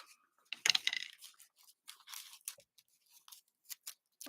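Scissors snip the ribbon tails of a bow for a handmade card, a few close, sharp cuts and rustles separated by short quiet gaps.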